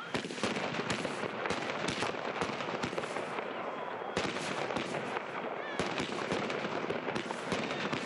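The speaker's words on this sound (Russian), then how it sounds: "В данный момент запускали пиротехническое изделие третьего класса опасности." Fireworks go off at a launch area in a town square on New Year's night, a dense barrage of sharp cracks and pops with a few louder bursts, heard from a distance over a constant noisy background.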